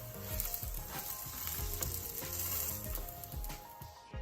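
Steady sizzling and crackling from a Sri Lankan roti frying in a little oil on a hot pan, with occasional light scraping and clinks as it is turned.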